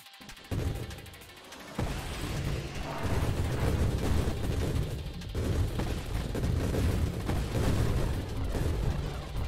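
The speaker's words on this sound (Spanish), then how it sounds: "creo que las explosiones se van a estar escuchando muy altas" Loud booming grenade explosions in the video game Nova Drift roll one after another, with sharp sudden onsets and a dense, continuous roar between them.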